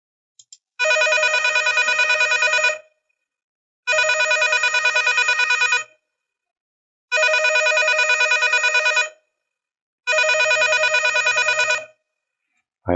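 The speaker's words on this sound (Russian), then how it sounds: "А это звук телефона." Telephone bell sound effect: four evenly spaced two-second bursts of bright electronic ringing separated by silence, clean and loud.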